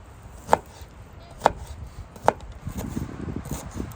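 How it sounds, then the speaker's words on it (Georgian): Knife chopping onion outdoors on a forest camping trip, three sharp separate chops on a board about a second apart, followed by a softer stretch of quicker, lighter cutting and rustling. "ახლა დავჭროთ ხახვი"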